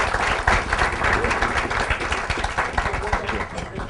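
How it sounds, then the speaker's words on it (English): Audience applause for panelists at a manufacturing symposium: a short burst of dense clapping with a few louder individual claps close by, some voices underneath. "and let's give them a round of applause."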